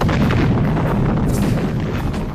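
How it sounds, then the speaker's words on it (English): Mark II fragmentation grenade explosion in a World War II battle in France, a loud sustained roaring blast with rumbling debris filling the whole moment, no voices. "Compton pulled the pin on a Mark II fragmentation grenade."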